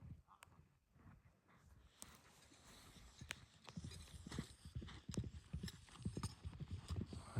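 A horse's hooves clip-clop in a steady walking rhythm, faint and somewhat distant, with light background noise.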